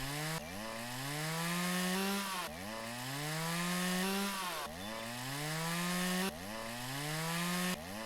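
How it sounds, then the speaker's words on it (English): A chainsaw cutting trees in the video game Lumberjack's Dynasty, the engine whine repeatedly rising in pitch under load and dropping back in regular cycles, loud and continuous with no speech. "I have a magical chainsaw here. It is capable of cutting down 2 things at once."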